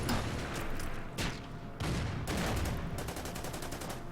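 Artillery and gunfire from the WWII strategy game Order of Battle: a dense stream of loud explosive bursts and rapid shots, with several separate blasts rolling across about four seconds and no talk.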